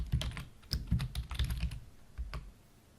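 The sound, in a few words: typing a slide title on a computer keyboard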